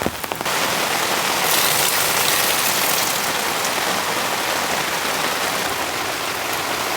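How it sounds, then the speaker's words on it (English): Heavy rain drums steadily on a tarp over a campsite, a dense, loud, close hiss that continues without a break; no talk. "It's a lot of rain coming in."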